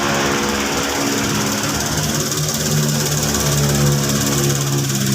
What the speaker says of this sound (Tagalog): 3 cylinder si Suzuki Celerio